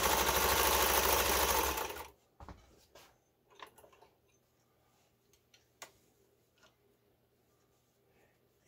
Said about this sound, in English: I'll go for a little longer stitch length, and you'll see the fabric move faster because each stitch is longer